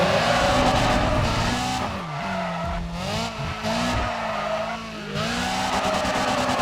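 A car drifts in the racing game Need for Speed ProStreet, with a loud, continuous engine roar and sustained tire squeal that swells and dips as the slide changes, heard alone without speech.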